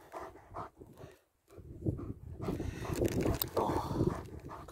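A dog vocalizes close by with bursts of barking and whimpering, mixed with panting and rustling; no one speaks.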